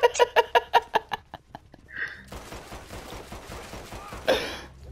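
Mauser pistols fired in the western game Red Dead Redemption 2, first a quick string of sharp evenly spaced shots up close, then a lower, busier stretch of scattered gunfire and scuffling with a louder crack near the end.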